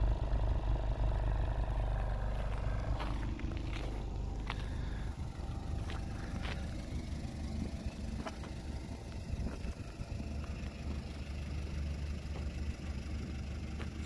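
A 1998 Acura Integra GS-R with stock exhaust idles quietly and steadily, a low, even engine hum at close range with a few faint clicks and no speech.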